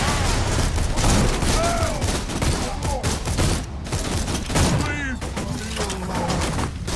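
Rapid gunfire from the first-person shooter Borderlands 2, with dense bursts of shots and booms running throughout, while players talk over the action.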